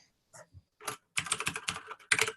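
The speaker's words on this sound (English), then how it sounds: "there is the mechanical keyboard tapping away" Mechanical keyboard being typed on, sparse single clicks that quicken into a rapid cluster of crisp keystrokes, close and fairly quiet, with no voices.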